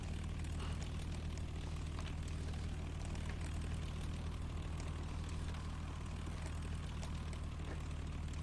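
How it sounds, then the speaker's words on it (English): Simulated Supermarine Spitfire Mk.I Merlin piston engine running in the X-Plane 10 flight simulator, a constant low propeller drone and engine hum, steady and unchanging throughout without talk. "Sounds vaguely like a Merlin engine."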